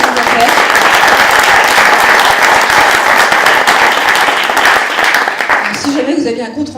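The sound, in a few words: conference audience applause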